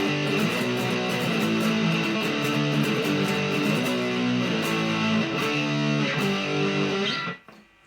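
Distorted electric guitar chugs through a chorus of power chords, loud and steady with a driving palm-muted rhythm, played alone before cutting off abruptly at the end.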